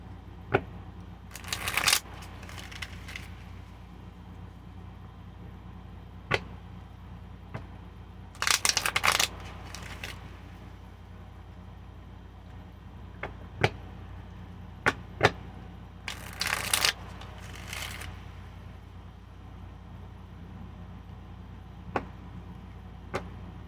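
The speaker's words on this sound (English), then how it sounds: "Just going to give them a little bit of a shuffle because they are new and they're sticking together." A new, sticky deck of tarot cards is riffle shuffled in three short bursts, separated by scattered soft clicks and taps in a quiet room.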